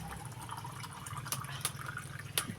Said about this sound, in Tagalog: Lalagyan natin ng mga sabaw ng mga 3 ganto.